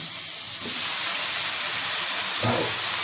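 Chopped jute leaves hit a hot pan with a steady broad sizzling hiss throughout, with a couple of brief low thumps as the greens drop in, no voices.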